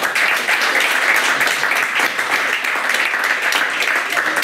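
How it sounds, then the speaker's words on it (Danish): A small audience of about ten people claps steadily and fairly close, a dense even patter with no pauses and no voices over it. "det ser godt ud på YouTube, når der sidder 10 mennesker og klapper"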